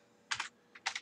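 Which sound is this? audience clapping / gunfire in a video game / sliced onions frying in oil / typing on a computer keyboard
typing on a computer keyboard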